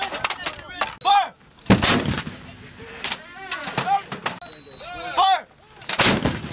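Artillery guns booming during a U.S. Marines live-fire exercise in Australia, with several loud, sharp blasts spread through the stretch and shouted crew commands between them.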